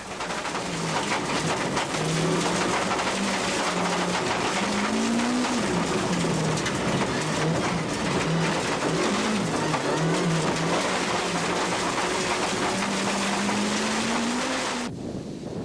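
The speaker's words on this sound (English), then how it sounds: "Listen for the damaged tyre slapping against the bodywork." In-car sound from a rally car at Tour Natal 2002 with a damaged left rear tyre: loud continuous engine and wind roar, the revs rising and falling through the stage, with rapid slapping rattle mixed in throughout.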